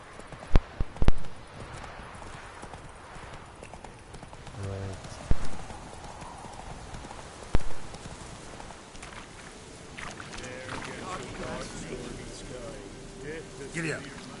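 A horse gallops in The Witcher video game, its hoofbeats thudding moderately beneath a voice talking, with a few louder impacts scattered through the stretch.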